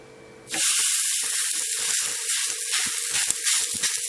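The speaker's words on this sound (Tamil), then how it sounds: "இப்போ நம்ம தட்டி வச்சிருக்க அடையை இதில் அப்படியே எடுத்து போட்டுடலாம்." Ragi and drumstick leaf adai batter laid onto a hot oiled dosa pan, bursting into a loud, steady sizzle after a quiet start, with crackling pops running on alone throughout.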